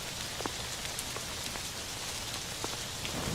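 Heavy rain falls steadily and densely on a surface at night on a streetlit street, a continuous close hiss scattered with sharper individual drop impacts.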